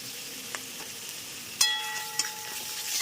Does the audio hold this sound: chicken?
yes